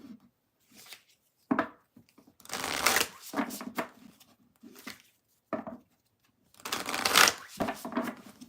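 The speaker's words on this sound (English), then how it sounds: "I'm going to shuffle, read the chat, and move on to Capricorn." Tarot cards are shuffled in several quick riffling bursts separated by silent pauses, close and crisp, with no talking over them.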